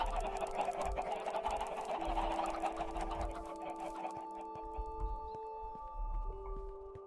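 A chicken in the Minecraft video game clucks repeatedly, with short sharp calls over steady game background tones and sustained musical notes.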